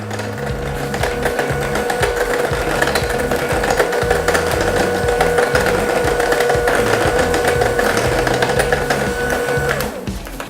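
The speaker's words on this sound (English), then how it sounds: "Then you just want to mix until it's combined. Just on a low speed." An electric hand mixer whirs steadily on low speed through butter pecan blondie batter, a loud continuous motor drone with a slight rhythmic grind that holds for about ten seconds before winding down at the end.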